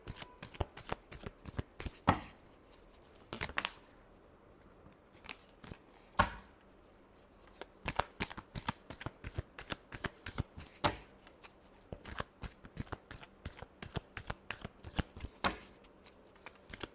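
Tarot cards are shuffled by hand up close in a long series of sharp, crisp riffling bursts with brief pauses, and faint talk occurs at points.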